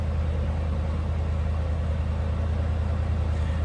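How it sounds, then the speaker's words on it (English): A 1953 Buick Super Convertible's V8 idling smoothly, a steady low rumble heard close from behind the car, even and unbroken throughout. "Smooth running V8, sounds good."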